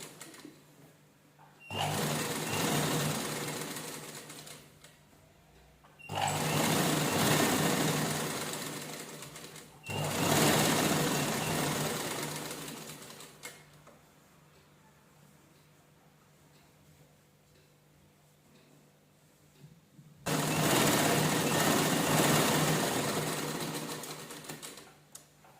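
A domestic sewing machine stitching two layers of saree fabric together runs in four separate bursts of rapid, even ticking stitches of several seconds each, close and fairly loud, with quiet pauses between the runs.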